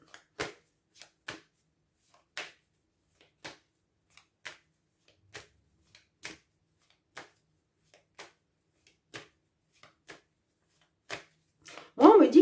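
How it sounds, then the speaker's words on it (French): Tarot cards are handled and drawn at a reading, with a series of soft, quiet snaps and flicks spaced out at irregular intervals and a voice briefly speaking at the end. "je vais juste remettre une carte sur l'examen"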